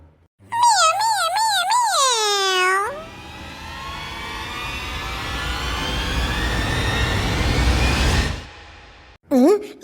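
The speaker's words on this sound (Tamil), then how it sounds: "பூமாரி வீட்டு பூனை பியாய் பாசு நம்மளை கூப்பிடுது" A cat in a video game gives a long, wavering series of meows near the start, then a sustained rising whoosh-like noise fills the rest before a short cry returns at the very end.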